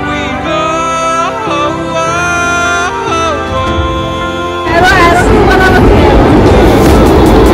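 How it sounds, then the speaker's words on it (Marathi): Music plays for several seconds, then a loud, rushing rumble of a Pune metro train pulling in overwhelms everything and holds steady. "मेट्रो आलेलं"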